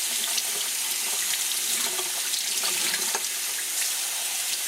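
Tap water runs steadily from a faucet into a sink while acorn meal is rinsed to wash out tannin, a continuous close splashing stream with no talk.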